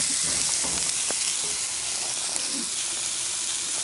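Vegetables for an eggplant, pepper, cucumber and tomato salad fry in a dry pan without oil, giving a steady close hiss and sizzle with faint pops and crackles throughout.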